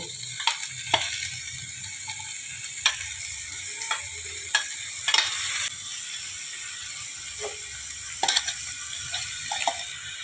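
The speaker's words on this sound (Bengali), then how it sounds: "এবারে বন্ধুরা আমার এই মশলাটা কষানো হয়ে গেছে এবারে আমি মোচাটা দিয়ে দেব" Chopped banana flower goes into a sizzling pan of fried masala for a Bengali mochar ghonto with coconut and chickpeas, followed by scraping spatula strokes and an irregular clatter of stirring over a steady background fry.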